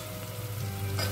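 Tomatoes dropped into hot oil in a crab curry pan sizzle and fry steadily, a continuous close hiss that swells slightly toward the end, with no talking.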